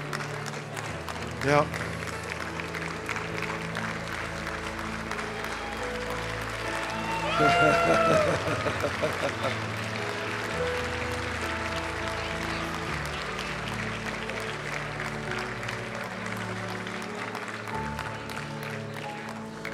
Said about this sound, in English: start clapping when you see